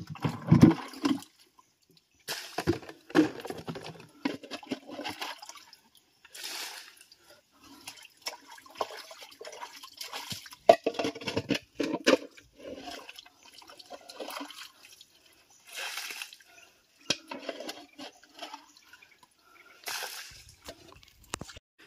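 Water trickling and gurgling in irregular bursts, with drips and wet sloshing as it drains away, fairly close and moderately quiet.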